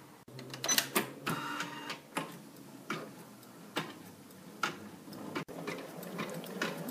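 A computerized embroidery machine stitches marking lines on fabric for Richelieu cutwork, producing quiet, regular ticking clicks and short mechanical taps at a steady pace, with no voices.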